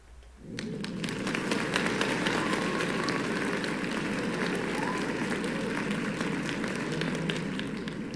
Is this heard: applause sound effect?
yes